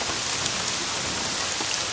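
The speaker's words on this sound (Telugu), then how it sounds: "ఎక్కడ తెచ్చాడు వీడు ఈ వర్షం ఒకటి?" Rain falls in a steady, dense hiss that stays even and close throughout, with no voices or other sounds.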